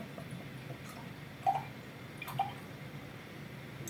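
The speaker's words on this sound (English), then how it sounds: "So I'm going to pour a little bit in," Ola Dubh 30, a thick, very dark, low-carbonation beer, poured in a small amount into a brandy balloon glass, giving a quiet, close liquid trickle with two soft glugging drips over a faint background hiss.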